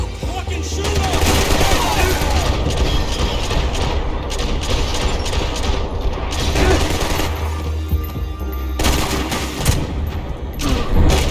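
Sustained automatic gunfire from a Max Payne 3 firefight on PC, dense bursts of shots rattling almost continuously at close range with brief dips in intensity.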